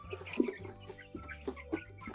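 Month-old chicks of Amrox, Livny and Minorca breeds cluck and peep quietly in their coop, faint scattered calls over a low steady background hum.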